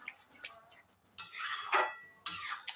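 An egg going into a pot of nearly finished curry, soft clinks and a couple of bursts of sizzling and scraping close by, with no talking.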